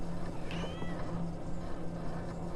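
Cat meowing in a video game about an eldritch adoption center, a couple of drawn-out meows over a steady low background hum, no speech.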